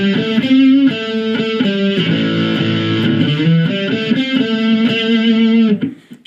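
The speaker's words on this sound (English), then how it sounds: "I can use that sound to create some nice lead guitar sounds as well" A distorted electric guitar through a Blackstar ID Core V3 amplifier plays a sustained lead line of held notes and quick runs, loud and upfront, ending with a short fade.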